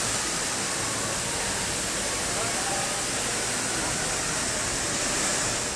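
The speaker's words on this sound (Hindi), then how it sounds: "नीमच जिले में लगातार हो रही बारिश की वजह से 71 फीट ऊंचा झरना भयंकर रूप ले चुका है।" A 71-foot waterfall in Neemuch district, swollen by continuous heavy rain, gives off a loud, steady roaring rush that fills the whole stretch without a break.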